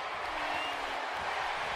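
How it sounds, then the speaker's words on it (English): A large arena crowd roars in the WWE 2K17 wrestling game, a steady broadband wash of cheering that holds loud and even throughout the short stretch. "And listen to this crowd!"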